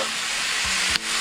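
Food frying in a pan, a steady bright sizzle with a couple of low stirring knocks and a brief scrape near the end, no voices.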